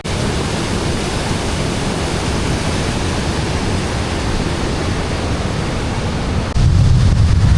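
Loud, steady roar of water rushing through a rocky gorge along the Kancamagus Highway, a dense continuous wash of noise with no pauses, growing slightly heavier near the end.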